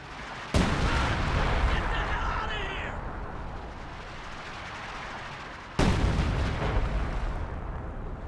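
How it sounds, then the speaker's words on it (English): Two heavy LEFH howitzer shots in a World War II video game, each a sudden loud boom followed by a long rumbling tail, the second landing several seconds after the first. "LEFH also firing"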